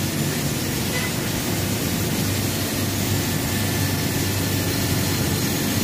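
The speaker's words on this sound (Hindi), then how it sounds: "अभी मेरे पीछे जो आप ये प्लांट देख रहे हैं बेसिकली 10 टन का आइस प्लांट है।" A 10-ton ice plant running Freon R404 with a 5 HP vertical agitator in its tank keeps up a steady, dense mechanical roar with a low hum, loud and even from start to finish, and no voices over it.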